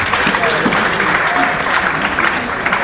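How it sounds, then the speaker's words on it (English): A room full of attendees at a young lawyers' forum of the Nigerian Bar Association in Ado-Ekiti claps together, giving steady, dense applause for about three seconds at an even level, with some voices mixed into the clapping. "Please give yourself a round of applause"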